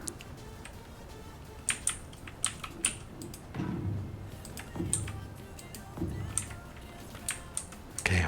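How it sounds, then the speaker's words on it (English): Keys clatter on a computer keyboard in irregular bursts, a faint, scattered tapping that runs steadily in the background. "Keep menacing keyboard noises in the background."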